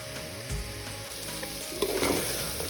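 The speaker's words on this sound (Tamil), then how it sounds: "தக்காளி எல்லாம் நல்லா வதங்கி உங்களுக்கு எண்ணெய் தெரியுதுங்களா?" Tomatoes and vegetables sauté in oil for biryani, a soft continuous sizzle with faint stirring scrapes, close by and fairly quiet, ending in a sharp clink.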